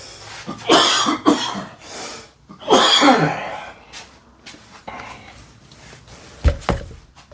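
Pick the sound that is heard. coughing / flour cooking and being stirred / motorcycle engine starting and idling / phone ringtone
coughing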